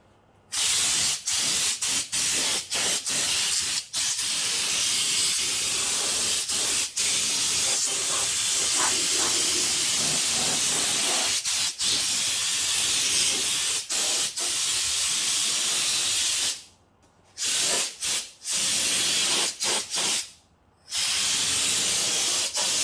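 Fluid Film undercoating sprays onto a 2016 Ford Super Duty truck in long, loud, steady hissing bursts, broken by a few brief pauses near the end.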